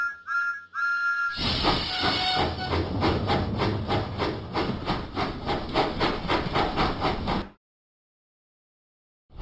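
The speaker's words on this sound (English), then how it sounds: "Thomas pumped his pistons and puffed out of the docks" A cartoon steam engine in a Thomas and Friends video game puffs out of the docks. A short whistle comes first, then a steady, rapid chuff of rhythmic puffs for about six seconds before it cuts to silence.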